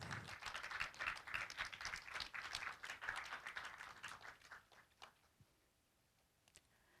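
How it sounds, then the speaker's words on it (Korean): Audience applause at a Korean online journalism award ceremony, a dense crowd clapping for a prize winner that fades out after about five seconds, leaving a near-quiet hall with a few stray claps. "박수로 축하해 주시기 바랍니다"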